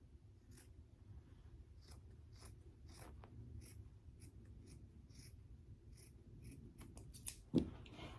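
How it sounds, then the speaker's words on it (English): Scissors snip through fur fabric for lining an Air Force 1 shoe: a quiet, close run of short crisp cuts and rustles at an uneven pace, with a slightly louder snip near the end and no speech. "now you're ready to cut your fabric"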